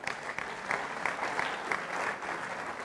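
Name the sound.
audience applause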